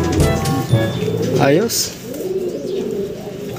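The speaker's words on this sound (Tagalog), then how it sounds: "So yun mga kalapati" Racing pigeons coo at a derby clocking station while someone speaks briefly and other voices mutter nearby, with the bird calls running under the talk.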